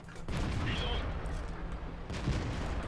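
A tank cannon shot in a tank video game, with a KV-1 nearby, booms out as a single heavy blast early on, followed by rumbling battle noise and a second thump.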